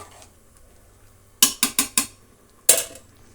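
Spoon or ladle scraping and knocking against a cooking pot while green pulao of Sona Masoori rice and vegetables is stirred: four quick close clatters, a pause, then one more, over a quiet kitchen hum.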